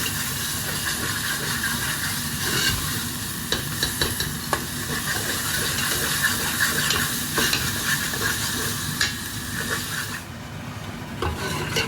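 A tadka fries in oil as it is stirred, giving a constant close sizzle and hiss with scattered scraping clicks from the spoon against the pan, dropping slightly quieter near the end.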